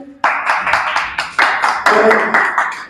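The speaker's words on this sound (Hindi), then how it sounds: "दानिश के लिए एक दफा सारे दोस्त मिलकर तालियां बजा दें" Hands clap in applause for the winner of a snooker match at a snooker studio, a handful of people beating loud, uneven rhythmic claps close by that keep going after a brief sound at the start.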